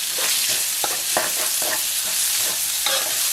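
Minced pork stir-fried with chili and garlic for a basil pork dish, sizzling loudly in hot oil while a spatula scrapes and clacks against the pan in quick, irregular strokes, close up and with no speech.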